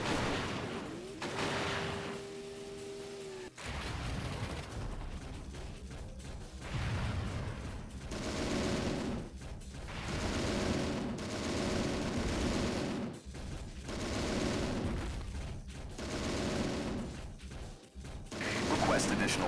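Rapid gunfire bursts in the Transformers Autobots DS video game, sustained dense shooting layered over game music and mechanical effects, loud and continuous with brief pauses, preceded by a short electronic tone.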